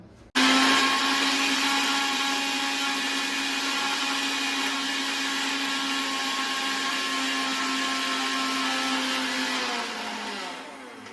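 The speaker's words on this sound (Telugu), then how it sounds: "ఇప్పుడు makhana, బాదము, cashews and oats and poha మొత్తం కలిపి గ్రైండ్ చేసుకోవాలి." A kitchen mixer grinder pulverizing makhana, almonds, cashews, oats and poha into powder, a loud continuous high-pitched motor roar that starts abruptly and runs steadily for about ten seconds before winding down.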